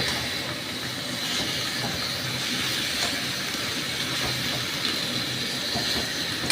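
Chicken pieces frying on high heat in a pan and being turned over, a steady loud sizzle and hiss running throughout with faint scrapes, no talking.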